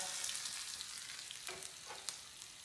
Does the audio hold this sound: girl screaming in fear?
no